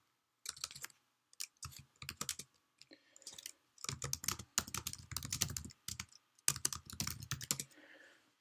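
Fingers type on a computer keyboard up close in quick clusters of key clicks broken by short pauses.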